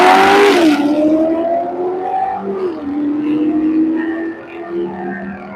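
Ford Mustang and Corvette Z06 launching side by side in a drag race, a loud burst of engine roar and tire noise at the start giving way to rising revs and gear-change pitch drops as the two cars pull away down the strip.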